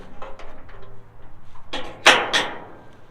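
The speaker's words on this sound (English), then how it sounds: "Get these doors open here." Metal storage doors on a dump trailer being opened, a few light rattles followed by two sharp, loud clanking bangs close by.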